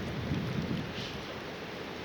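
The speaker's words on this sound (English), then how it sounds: "it's raining pretty good." Steady rain falls with a low, rolling rumble of thunder underneath, continuous and fairly loud, with no talking.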